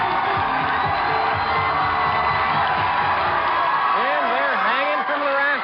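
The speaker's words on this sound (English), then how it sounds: "cheering on their teams, Bellaire and Clements" Studio audience in a TV quiz studio cheering and whooping for the Bellaire and Clements academic teams, a loud continuous crowd roar with shouts and rising voices throughout.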